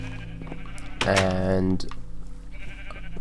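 Sheep bleat once in Minecraft during survival play, a loud drawn-out call standing above a soft game backdrop, with a person speaking briefly around it.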